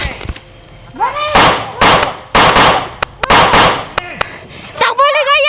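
Several sharp, loud gunshot-like bursts ring out in quick succession during a tense confrontation, each crack followed by a brief decay, with shouting voices between the shots.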